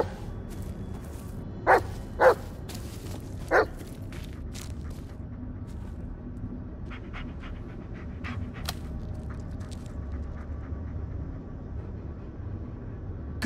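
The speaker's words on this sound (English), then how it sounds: "Good dog." A dog in the Blair Witch video game gives three sharp barks early on, loud against low ambient rumble. Quieter panting follows and runs under the rest of the scene.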